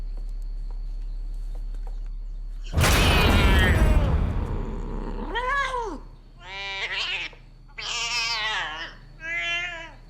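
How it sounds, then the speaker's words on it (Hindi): A cat meows several times in a horror film, long and drawn-out, some rising into a wailing caterwaul. The cries follow a loud, noisy crash and are heard close with no talking. "बिल्ली है।"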